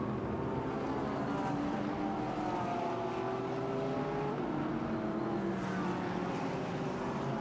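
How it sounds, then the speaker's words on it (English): A GT race car running in qualifying at Suzuka Circuit in a GT World Challenge Asia session: a steady engine drone with pitch that rises and falls, heard from a moderate distance as a continuous roar. "And now we follow the number 33 of Team GMB, Ruaki Hatano, aboard that machine."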